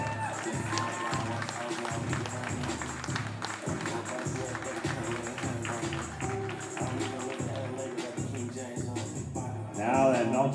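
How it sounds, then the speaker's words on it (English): Spectators at a junior weightlifting championship applauding, with clapping and cheering mixed under background music and crowd noise at a moderate, continuous level. "Congratulations, ladies. A round of applause."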